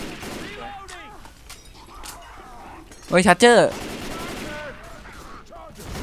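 A short loud burst of rapid gunfire in the Left 4 Dead 2 zombie shooter cuts through the middle, with scattered game noises around it and people talking excitedly over it.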